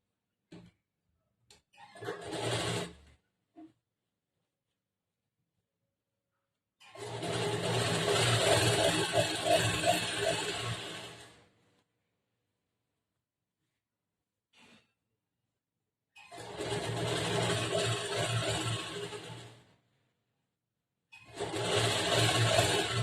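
Sewing machine stitching along folded blouse fabric, in three steady runs of several seconds each separated by pauses, with a short burst near the start and a brief click between runs; close and fairly loud, no talking.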